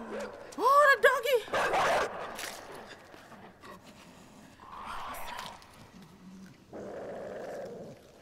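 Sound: dog growling and barking in the video game INSIDE

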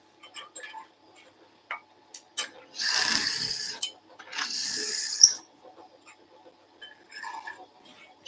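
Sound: drilling a hole in wood on a lathe

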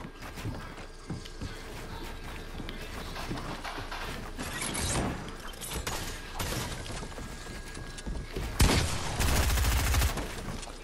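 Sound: gunfire shooting in video game Fortnite

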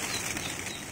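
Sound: White Banarsi Ghaghray pigeons flapping wings

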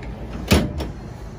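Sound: drawers sliding out in the back of a Volkswagen Transporter T6 van

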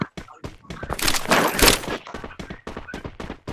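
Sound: gunfire in the video game Free Fire

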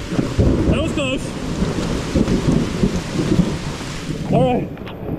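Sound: thunderstorm with thunder and rain

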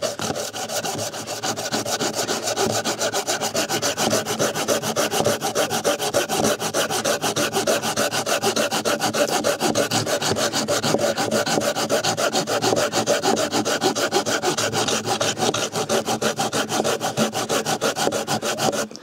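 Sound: folding hand saw cutting wood

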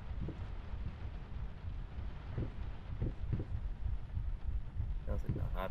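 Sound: heartbeat sound in the video game Layers of Fear

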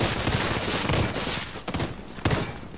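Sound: submachine gun fire in The Division 2 video game

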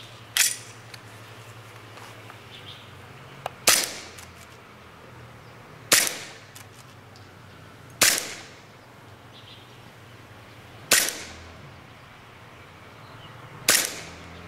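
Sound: airsoft gun WEG-18C firing during FPS test

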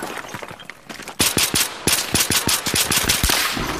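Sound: gunfire in the video game Battlefield 3

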